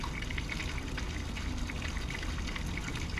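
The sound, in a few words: water from RainPoint smart garden watering system flowing into pool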